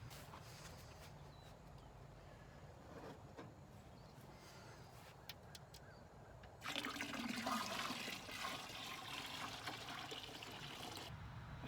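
Hot homebrew beer wort poured into 2.5 gallons of chilled water, a faint steady trickle that swells into a louder rushing pour partway through, with no voices.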